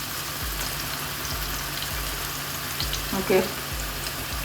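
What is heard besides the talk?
paneer frying in masala and oil in a pan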